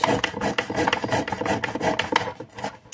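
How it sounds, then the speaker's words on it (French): A carrot grated by hand, rapid rhythmic scraping strokes several per second, close and fairly loud, with no talking. "donc là je râpe, je pense que vous pouvez l'entendre"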